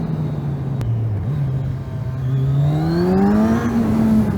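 A close engine hums steadily, dips briefly, then climbs in pitch as the vehicle accelerates hard, with a smooth rising drone and no talk.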